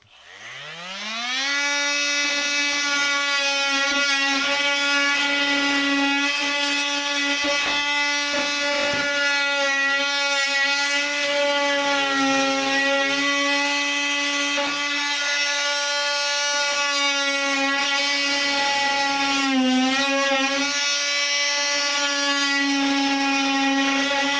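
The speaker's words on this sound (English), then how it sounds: "So for this, I use my multi-tool, and you'll see why in about 2 seconds." An oscillating multi-tool cutting into drywall for a patch spins up and holds a loud, sustained buzzing whine close by, with slight wavers as the blade works through the board.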